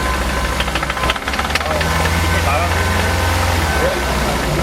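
A Hyundai Elantra Coupe engine with about 200,000 km runs steadily with a loud, rough mechanical knocking and rattling from a failing bearing, close and continuous, recorded with the engine bay open in the pits.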